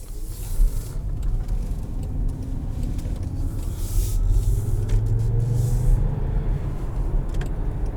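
A 2022 Jaguar I-Pace EV400 HSE electric SUV cruises in traffic, its synthetic engine note piped into the cabin as a steady low hum over road rumble, swelling slightly midway, with no talking.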